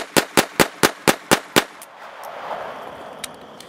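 A .22 firearm fires seven sharp, evenly spaced shots in quick succession at a night shoot, loud and close, followed by a fading echo and low outdoor ambience.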